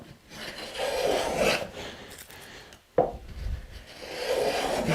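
A moulding plane shears wood shavings in two long rasping strokes, each swelling then fading, separated by a short pause, close and clear with no voices.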